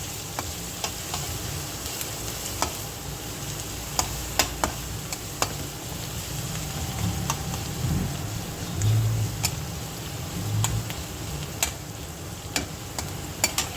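Onions softening in hot oil, a quiet, steady sizzle with occasional sharp ticks and pops and a low rumbling hum beneath.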